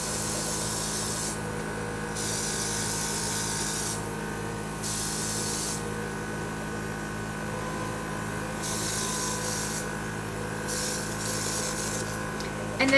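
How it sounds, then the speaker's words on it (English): An airbrush sprays bronzer makeup onto a face with a continuous hiss broken by short pauses between bursts, close and steady, with a faint motor hum beneath. "I'm just going to hurry and spray it on my face"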